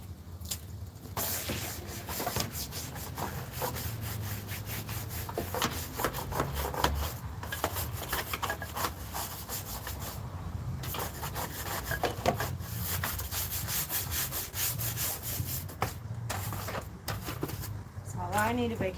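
Brush scrubbing house siding at the rear of a property: a continuous, close, rhythmic rubbing and scraping that carries on for the whole stretch with short irregular breaks.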